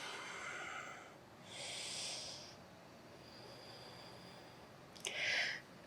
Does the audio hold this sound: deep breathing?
yes